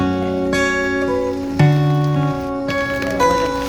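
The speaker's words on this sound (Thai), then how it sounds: "ฝนตกครับ" Steady patter of rain drumming on a taut tent overhead, close and continuous, with a few sharper drips and knocks.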